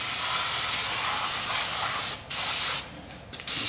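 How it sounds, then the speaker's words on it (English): An aerosol can of brake cleaner sprays onto car rear brake shoes in a loud continuous hiss, pausing briefly, then resuming in short bursts. "Spray the brake shoes down."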